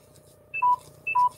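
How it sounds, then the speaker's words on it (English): A smartphone gives two short alert chimes asking to be plugged in, each a quick pair of high electronic beeps, fairly clear against a quiet low room hum with no talking. "that was my phone telling me that it wants plugging in"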